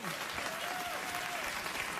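Television talk show studio audience applauding, a dense, steady roar of clapping from a large crowd throughout, with a voice briefly heard over it.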